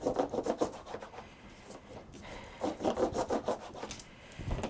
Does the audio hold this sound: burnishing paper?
yes